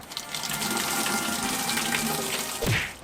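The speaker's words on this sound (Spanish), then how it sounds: "Y lo voy a llenar otra vez con agua limpia sin suavizante." Clean tap water runs steadily into a sink, a continuous hissing splash that fills the whole stretch, with a brief lower gurgle near the end and no voices.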